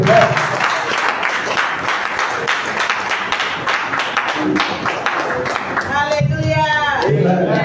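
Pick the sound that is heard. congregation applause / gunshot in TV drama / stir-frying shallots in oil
congregation applause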